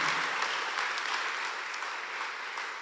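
A church congregation applauds loudly, a thick continuous roar of many hands clapping that stays full and even throughout, easing only slightly toward the end.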